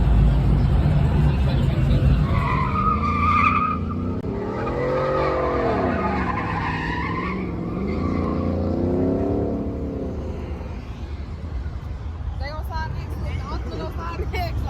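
A car skids its tires at a street car meet, with long, loud wavering squeals rising and falling over engine noise. The squeals sound moderately distant, and people talk nearby throughout.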